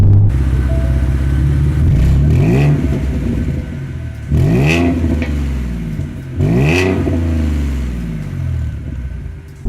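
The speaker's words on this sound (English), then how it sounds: "there is Flowmaster Catback Pro Series exhaust on this car. It sounds pretty good" A 2016 V6 Ford Mustang with a Flowmaster Pro Series cat-back exhaust revs three times, each loud rev climbing sharply in pitch and then falling back to a steady, rumbling idle, with no talking.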